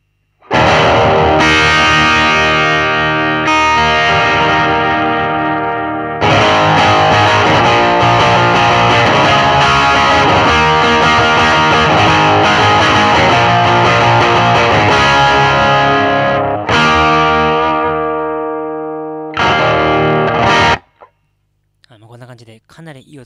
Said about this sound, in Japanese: そしたら歪みのペダルをオンにしていくんですけど